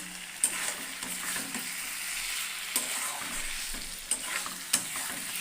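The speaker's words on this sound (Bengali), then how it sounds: "কমিয়ে দিয়ে ভালো করে মশলাটা কষিয়ে নিচ্ছি" Spice paste sizzling and frying in a pan over lowered heat for koi fish curry, a steady hiss broken by a few sharp scrapes of stirring, close and moderately loud with no talking.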